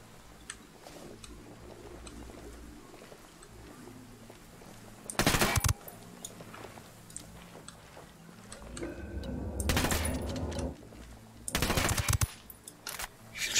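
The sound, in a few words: gunfire in Ghost Recon Wildlands video game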